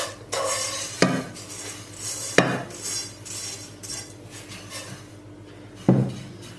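A spoon scrapes and taps against a dish while spreading muhallebi pudding. There are a few sharp clinks about a second apart, with soft smearing between them, all close by and fairly quiet.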